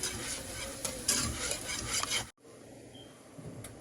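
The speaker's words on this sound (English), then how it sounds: "you just whisk like no other until you don't see any flour" A whisk scrapes and swishes briskly through flour and gravy in a pan, with a faint sizzle underneath. The noise cuts off abruptly, and quieter background sound follows.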